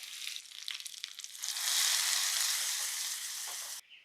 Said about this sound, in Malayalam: കുറച്ച് വെളിച്ചെണ്ണ ഒഴിച്ചു കൊടുക്കാം. 2 മണി ഉലുവ ഇട്ട് കൊടുക്കണേ.